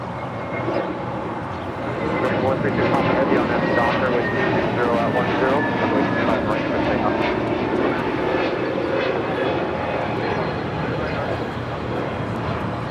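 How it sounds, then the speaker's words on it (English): A JetBlue Airbus A321neo jet takes off from LAX with a loud, sustained roar that swells and holds, while people talk faintly in the background. "That was JetBlue 1124 taking off to JFK on an A321 Neo."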